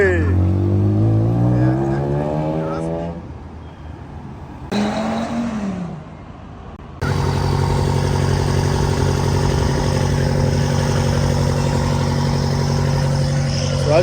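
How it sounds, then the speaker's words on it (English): An 800hp British Racing Green BMW F90 M5 engine revs loudly with rising and falling tones, cuts out briefly, then settles into a steady deep running drone. "So as you can see, the F90 M5 just started."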